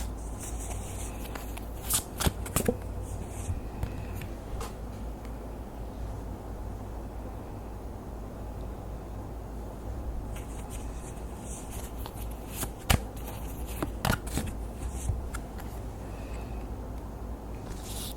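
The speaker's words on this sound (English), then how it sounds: "let me grab another card" Tarot cards shuffled by hand at a reading table, soft steady riffling rustle throughout with a few sharper snapping bursts of cards near the start and middle, close and fairly quiet, no voices.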